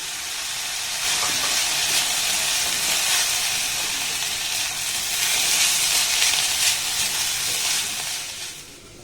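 Vegetables fry and get stirred under a lid in a pan, giving a steady, loud sizzling hiss with light scraping that holds throughout without any voices.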